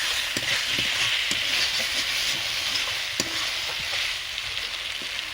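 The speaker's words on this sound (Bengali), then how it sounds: "আলুর সঙ্গে মশলাটা ভালোভাবে কষিয়ে নেব।" Spice paste and potatoes stir-fry in a pan for a hilsa fish curry with black cumin, giving a steady close sizzle with occasional scraping clicks of stirring.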